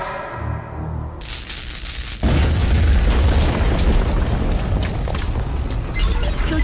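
A grenade blast in an animated fantasy series: a heavy, loud boom bursts in suddenly and rolls on as a sustained rumbling roar with crackling debris, following a quieter stretch of background score.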